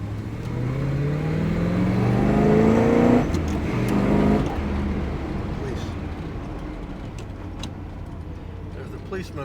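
A 1968 Chevrolet Corvette L68 427 Tri-Power drives along, its engine revving up with rising pitch and then easing off to a lower steady drone, close by, with people talking inside the car.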